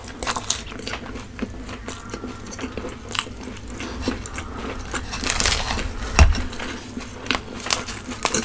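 Close, crisp bites and wet chewing of creamy spinach palak paneer scooped with butter garlic naan, with soft squishy and crunchy mouth sounds continuing steadily throughout, no talking.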